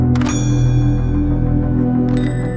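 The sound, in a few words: phone notification chime from a dating app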